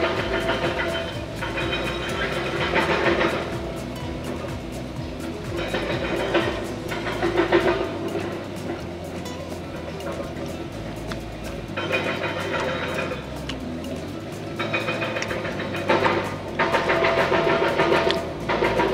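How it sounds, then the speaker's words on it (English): Loud, continuous construction noise at a taco stand in Mexico, a steady mechanical engine rumble with rhythmic clanking that swells and fades in bursts throughout, with no talking. "This construction noise is too much."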